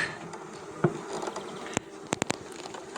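Honeybees from a swarm being moved from Ruta frames to Ukrainian hive frames, a faint, steady buzzing hum close by, broken by a few sharp clicks and taps.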